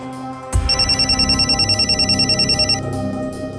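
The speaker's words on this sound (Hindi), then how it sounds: "किसी का फोन है।" A telephone bell rings in a rapid, continuous trill that starts abruptly after a brief thump and keeps going loud and close for about two seconds before fading into the room.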